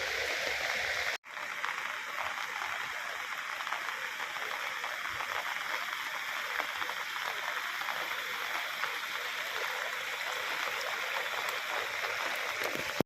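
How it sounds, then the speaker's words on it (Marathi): Loud, continuous rush of fast-flowing flood water past a bridge, a dense steady roar filling the whole clip without letup. "जबरदस्त पाणी आलं आहे"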